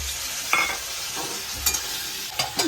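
Khichuri ingredients fry in hot oil in a home kitchen, a steady close sizzle broken by a few sharp metallic scrapes and clinks of stirring.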